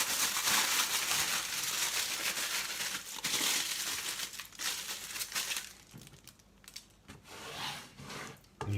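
Paper wrapping is rustled and unpacked from a Danish smørrebrød open-faced sandwich lunch pack, loud, close crinkling and rubbing that continues for several seconds and then turns into sparser scrapes and crackles.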